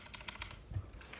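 Typing on a clicky 60% mechanical keyboard fitted with one rubber keycap, heard as a few quick, close keystroke clicks in a short burst, with no voices.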